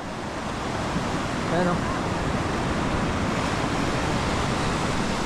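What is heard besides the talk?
sea waves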